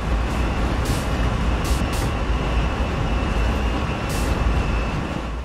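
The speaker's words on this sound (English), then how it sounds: "you can hear the brakes squealing as we get down to 2 miles per hour" Union Pacific AC4400CW locomotive in Train Sim World 2, its brakes squealing as it creeps toward a loading point at about 2 mph: a steady heavy rumble with a thin high tone and a few brief hissy bursts.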